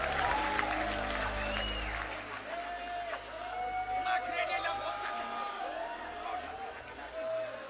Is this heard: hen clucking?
no